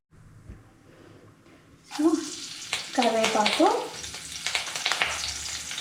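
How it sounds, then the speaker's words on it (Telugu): Curry leaves drop into hot oil for veg gobi manchurian and set off a sudden loud crackling sizzle that keeps popping and hissing up close, with a voice talking over it. "సో ఇప్పుడు ఆయిల్ తీసుకున్నాము. ఆయిల్లోకి కొంచెం కరివేపాకు,"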